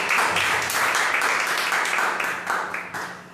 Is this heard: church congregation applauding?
yes